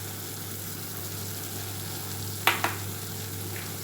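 Onion, tomato and chili powder sauté in a pan for fish curry with a steady, moderate sizzling hiss over a low hum, broken by two quick scraping clicks of stirring.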